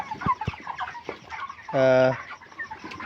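A flock of about five hundred broiler chickens clucks and chatters in short bursts close by, with one louder, drawn-out call near the middle; the flock murmurs softly underneath.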